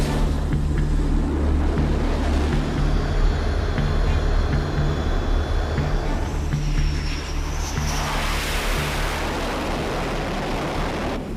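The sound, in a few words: jet aircraft accelerating full throttle for a carrier go-around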